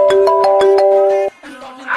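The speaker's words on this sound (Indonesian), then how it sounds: "Dia telepon." A phone rings loudly with a repeating melodic ringtone for an incoming call, the tone pulsing in quick beats before shifting to a lower note at the end, with no one talking over it.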